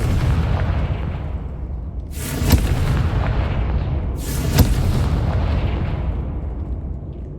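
Two explosive Confringo spell blasts go off during a boss fight in Hogwarts Legacy, each a sharp loud crack with a rushing burst, a couple of seconds apart over a constant low rumbling backdrop.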